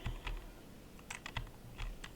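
Key clicks on a computer keyboard during a Minecraft survival session, faint, irregular taps in short clusters alone without talk.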